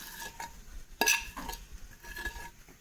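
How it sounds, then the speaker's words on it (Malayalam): Four mashed bananas are stirred into a pan for an evening snack, with soft scraping strokes and a sharp metallic clink of a spoon against the pan near the middle, then more gentle stirring. "നമ്മൾ 4 പഴവും നേരത്തെ ഉടച്ച് വെച്ചത് മുഴുവനായിട്ട് ഇതിലേക്ക് ചേർത്ത് കൊടുക്കുന്നുണ്ട്."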